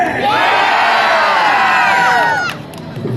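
A crowd of children and adults at a live holiday event cheers and shouts back to a host, a loud sustained roar of many overlapping voices that breaks off sharply near the end.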